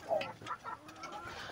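Goliath chickens cluck in several short, close bursts across a quiet farm pen, with soft repeated calls and a faint background hum.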